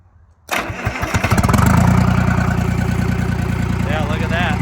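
A Detroit Diesel 3-53 two-stroke engine cranks briefly and fires, catching after a short quiet moment and settling into a loud, rapid, rhythmic diesel clatter close to the microphone, with faint voices underneath.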